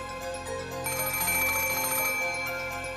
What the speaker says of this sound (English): the ring of the phone, which once sounded like a scream for help, now started to sound like a ghastly lure from some unknown person